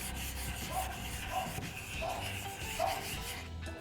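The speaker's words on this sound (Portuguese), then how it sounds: "aí vem com a lixa 400, dobra em 4 e com a mão bem leve vai lixando redondinho." Soft, steady rubbing of folded 400-grit sandpaper by hand on a chair being restored, a light scratchy swish repeating in gentle strokes, close and quiet.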